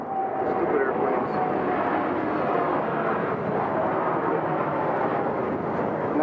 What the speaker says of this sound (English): Stupid airplanes.